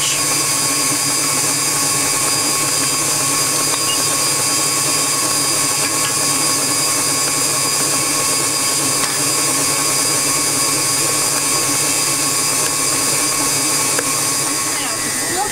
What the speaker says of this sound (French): alors mon robot il est sur vitesse 2, j'ai 2, 3, oh, il est 4, il est sur vitesse 4